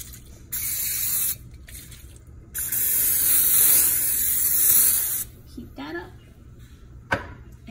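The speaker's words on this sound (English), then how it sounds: "pan here. I'm going to spray it." Several sharp hissing bursts of cooking spray hit a pan, close and loud, with gaps between them, followed by a few soft clinks and a person speaking briefly near the end.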